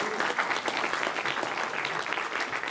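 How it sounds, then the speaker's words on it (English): Audience applause at a live show introduction, a dense, steady wash of clapping hands from a crowd that holds evenly throughout without pause. "Give him a round of applause."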